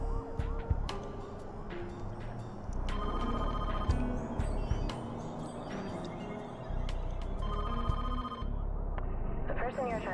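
A telephone rings in repeated bursts during the intro of the Trespasser video game, over busy background sound with voices.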